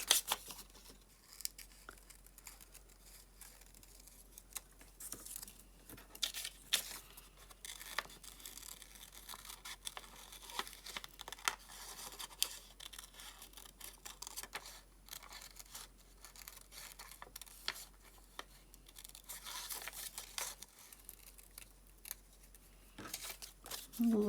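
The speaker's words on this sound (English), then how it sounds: "Fussy cut a little bit first" Scissors fussy-cut paper butterflies with quiet, close snipping and light paper rustling in a steady, irregular rhythm, with no talking.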